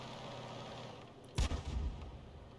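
A Churchill 3 tank fires its cannon in a video game, one sudden heavy boom and a rumbling tail over a low engine hum.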